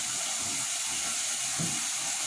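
Water runs steadily from a kitchen tap, a continuous close hissing splash with no pauses and no talking.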